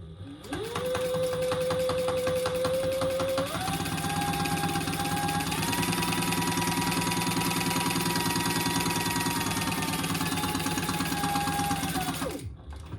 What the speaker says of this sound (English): So I'm going to stitch across, top stitch first.